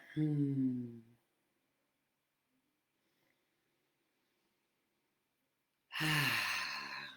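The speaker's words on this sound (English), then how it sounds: "let's just take a few nice deep breaths together" Two deep, drawn-out breaths during a relaxation exercise, each lasting about a second, fairly loud and close, one at the start and one at the end with near silence between them; no talking.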